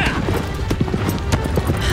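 Horse hooves clip-clop in a steady gallop rhythm in the Shadow of the Colossus video game, with game sounds and a person talking over it.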